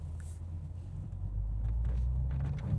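A Toyota GR Supra with a manual gearbox starts up, a quiet cabin giving way to a low engine rumble that rises and settles into a steady idle about halfway through.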